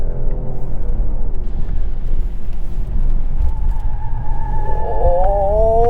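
A 2022 Mercedes-Benz E450 4Matic sedan accelerates hard, its engine note rising steadily in pitch over a constant road and cabin rumble, heard from inside the car with no talking.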